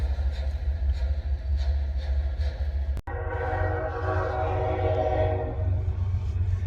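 A train rumbles past with a steady low roar, its horn blaring in long tones over the rolling noise.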